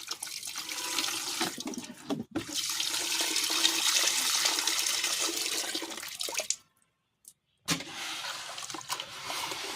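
Building sand being rinsed in water, a steady broadband rushing and sloshing of water running through wet sand, fairly close and continuous, with a short pause of silence before it resumes.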